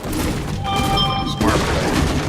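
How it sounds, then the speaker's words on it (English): Automated turret firing in a Fortnite esports match, heard as a dense run of rapid gunfire bursts mixed with loud game action throughout. "Oh man, yep, there's a business turret."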